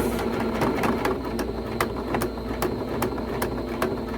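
A sewing machine stitches straight down the binding seam of a T-shirt quilt, the binding held in place with glue. It gives a steady close mechanical hum with quick regular needle ticks running the whole time.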